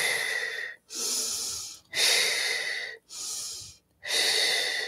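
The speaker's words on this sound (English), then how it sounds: "I'm also hyperventilating because I'm doing it too fast." Fast, exaggerated breathing in and out, five loud, close, airy breaths in a steady rhythm with short gaps between them, with no talking.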